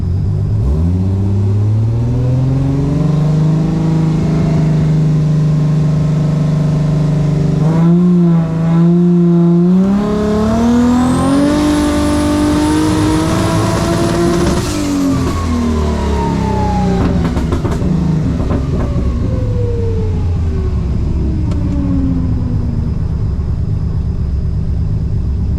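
Turbocharged Ecotec V6 engine on a pull, revving up through a long sweep and then winding down, loud and close, with an uneven misfire running under the roar.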